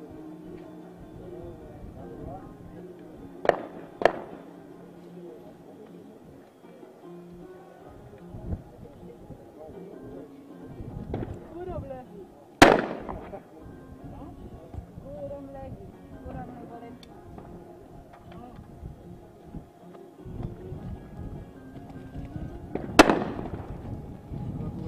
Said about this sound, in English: The athletes are going through test fire right now before the start of the match